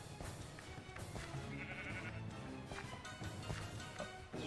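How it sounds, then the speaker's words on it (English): A sheep bleats in the Minecraft video game, one drawn-out wavering bleat in the middle, faint beneath busy game sounds, footsteps and background music. "Oh, there's a sheep up here?"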